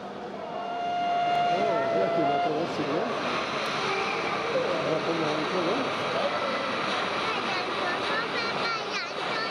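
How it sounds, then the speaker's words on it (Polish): An H0 scale model Orient Express train runs on a model railway layout at an exhibition, a faint mechanical whir under hall noise, a whistle-like tone and people talking nearby. "Po krótkim postoju słynny pociąg rusza dalej."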